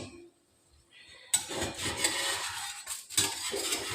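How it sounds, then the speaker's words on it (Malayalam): Food being stirred on a tawa griddle, with metal utensil scrapes and clatter against the pan after a quiet start, close and moderately loud, with no talk. "എങ്ങനെയും അതൊന്ന് ഇളക്കണം."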